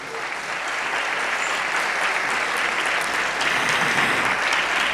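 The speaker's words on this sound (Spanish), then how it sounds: "Un aplauso para ellos." A theatre audience applauds after a Christmas carol performance by a choir and dance group, sustained dense clapping that holds at a loud, even level throughout.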